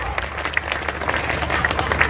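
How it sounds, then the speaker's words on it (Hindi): Audience clapping at a Hindi poetry recital (kavi sammelan) at the Bachhrawan Dussehra fair, a steady patter of many hands over a few seconds with crowd murmur underneath. "आप लोग थोड़ा ताली बजा के आदेशित करें एक बार"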